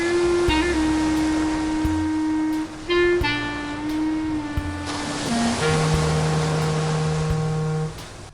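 A ferry crossing the Andaman Sea from Phi Phi to Krabi gives a steady, loud droning hum that shifts pitch several times, with rushing water and wind beneath as it nears the pier.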